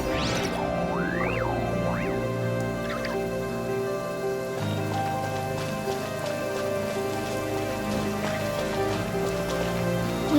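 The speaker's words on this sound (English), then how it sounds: "With rain this heavy," Heavy rain pours steadily in the Genshin Impact game world, a dense continuous hiss over a low droning backdrop, with brief rising tonal sweeps early on.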